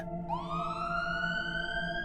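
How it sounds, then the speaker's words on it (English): A single siren tone sweeps upward and holds, wailing steadily over a low droning background, fairly distant and moderate in volume. "I heard the sound of police sirens closing in"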